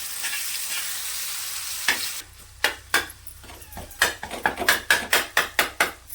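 Tomatoes hit caramelised onions in a hot pan for an egg tawa masala, sizzling loudly at first, then a quick run of sharp, rhythmic clanks as a utensil stirs and scrapes the pan.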